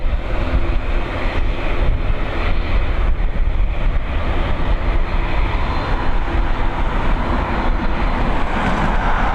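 Ryanair Boeing 737, flight FR3101 from Amsterdam, landing on runway 28L at Dublin Airport in the evening: a steady, loud broadband jet roar holds for the whole stretch, with gusting wind buffeting the microphone.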